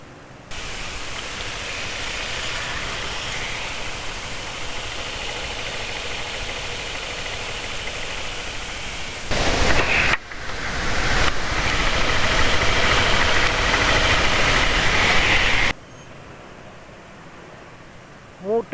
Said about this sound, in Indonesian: Suara mesin kasar RPM rendah.